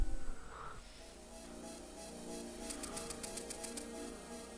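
A crow in The Legend of Zelda: The Minish Cap flaps its wings and flies off, a short burst of game wing-flap effects heard over looping background music.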